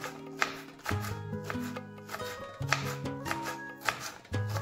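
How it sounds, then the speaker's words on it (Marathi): Okra (lady's finger) sliced with a knife on a board, a quiet series of crisp, irregular chopping taps close by, with no talk. "तर मी आता सर्व भेंडी चिरून घेते।"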